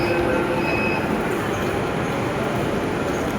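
A Delhi metro train at Azadpur station rumbles loudly and continuously close by, with faint high wheel squeal over the steady rolling roar.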